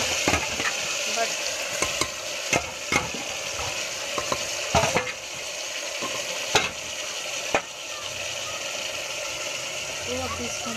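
Hyderabadi mutton korma cooks in a pan with a constant sizzle while a spoon stirs and scrapes at intervals, sharp clacks standing out over the simmering bed.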